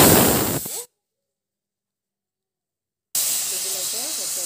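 A home pressure cooker releases steam in a loud, broad hiss that cuts out abruptly and resumes about two seconds later, with a voice speaking over it.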